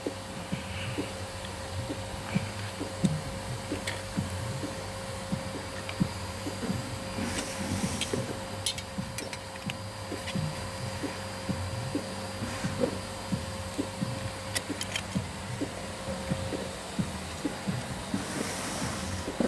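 Shrinker stretcher machine stretching the steel edge of a car body panel during an Opel Manta i200 restoration in a workshop, steady rhythmic clunking strokes repeating over a constant mechanical hum, no talk.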